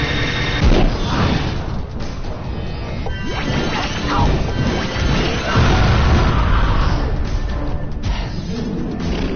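Heavy cannon blasts boom and crash in a Jak and Daxter game, a dense run of loud impacts and explosions that keeps going with game music and effects layered underneath.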